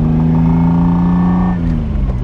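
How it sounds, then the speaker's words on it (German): The V6 mid-engine of a 1974 Ferrari 246 GTS Dino revs loud and close, a steady rasping six-cylinder drone that eases off slightly toward the end. "Die 6 Zylinder sind aber ganz deutlich vernehmbar."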